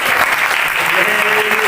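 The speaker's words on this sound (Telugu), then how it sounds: "చప్పట్లు కొట్టండి." Congregation at a church anniversary meeting clapping hands together, a dense, loud, steady burst of applause filling the room.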